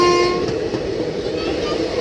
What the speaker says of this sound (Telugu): ఓ మన ట్రైన్కి మూమెంట్ వచ్చింది